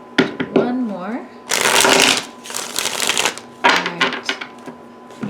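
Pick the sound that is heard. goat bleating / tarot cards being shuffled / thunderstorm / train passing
tarot cards being shuffled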